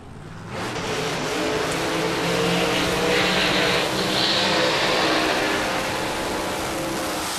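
An Outlaw nitro funny car makes a drag racing pass at Palmyra Dragway. A loud, sustained roar surges in after half a second and holds, filling the air for several seconds with no voices.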